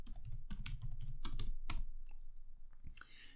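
A burst of rapid keystrokes on a computer keyboard during a cybersecurity walkthrough: close, crisp clicks for about two seconds, then a few scattered taps before it goes quiet.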